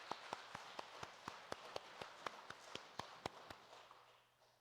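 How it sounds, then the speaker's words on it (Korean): A church congregation claps to welcome Sunday school children, about fifteen sharp, separate hand claps in a fairly steady rhythm over a quiet room hum, thinning and fading toward the end. "우리 박수로 환영하도록 하겠습니다"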